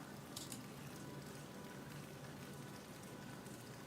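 A rain sound effect playing as faint, steady pattering and hissing of drops on a surface, continuous throughout with no voices.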